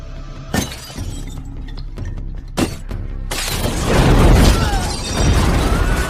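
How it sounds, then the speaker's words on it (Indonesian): A large explosion in a crime thriller film scene: sharp shattering and bursting hits, then a loud, sustained roaring blast with rumbling debris that fills the rest of the stretch, with no talk. "sebuah ledakan besar seketika langsung menimpa mereka berdua"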